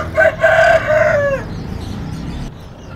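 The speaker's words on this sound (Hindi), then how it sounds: "और ये एक जोड़ा है कंधारी मुर्गों का, बहुत बड़ा जोड़ा माशाल्लाह" A Kandhari rooster at a Sunday bird market on Kasi Road in Quetta gives one loud, close crow lasting about a second and a half, followed by quieter background murmur.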